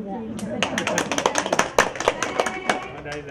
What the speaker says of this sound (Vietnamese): Giới thiệu lên cái mình vỗ tay đi.